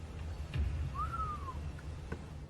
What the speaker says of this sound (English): she hears a whistle